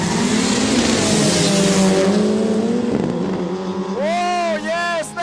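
A no-prep drag racing car at a quick street day accelerates hard through its gears, a loud engine roar climbing and dropping at each shift under an excited commentator, with a higher whine sweeping in near the end.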